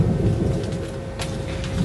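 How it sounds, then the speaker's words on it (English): Steady rain and a low rumble of thunder from a thunderstorm in New Hampshire, a continuous wash of noise with a brief brighter burst near the middle, heard alone without voices. "as you can probably hear, there's a thunderstorm going on here in New Hampshire"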